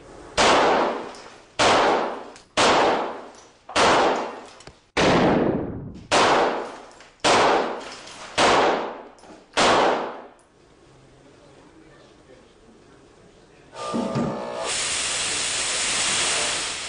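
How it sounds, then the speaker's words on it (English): Nine loud, sharp gunshots ring out in fairly even succession at an untreated glass pane, each with a ringing decay. After a quieter stretch comes a sustained loud hiss. "Live fire! Fire at your discretion!"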